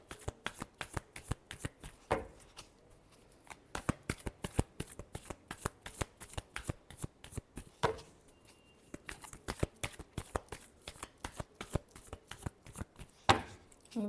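Tarot cards are shuffled by hand in quick crisp riffles and slaps, a rapid irregular patter of close, clear card noise that continues alone throughout.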